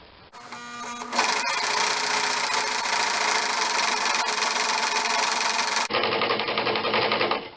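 A sewing machine runs continuously, stitching fabric for a nun's wimple collar, with a fast, even mechanical whir and rattle after a brief start-up, then slows toward the end; close and alone.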